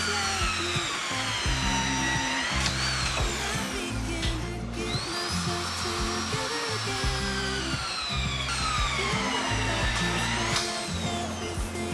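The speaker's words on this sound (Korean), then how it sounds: "수평이 확인된 빔에 TS 볼트를 샤렌치를 사용해 조여주면서 고정 작업을 진행해줍니다" A shear wrench drives TS bolts tight on a leveled steel beam at a building renovation site, giving a steady, fairly loud mechanical whine with rhythmic, pulsing bursts and a brief pause partway through.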